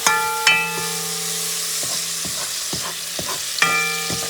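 Peppers and onions stirred in a hot pan for a Puerto Rican shrimp and pigeon pea rice stew, a continuous close sizzle broken by ringing metallic clinks and scrapes of the spoon, no talk.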